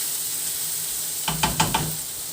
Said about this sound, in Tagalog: lagyan na natin yung kamatis. Ayan, lutuin lang natin itong kamatis